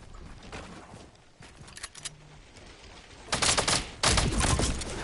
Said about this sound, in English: they all shot at me at the same time